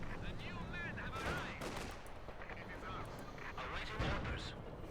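Gunfire in a Company of Heroes 2 battle, with bursts of shots and booming artillery blasts under a caster's continuous commentary.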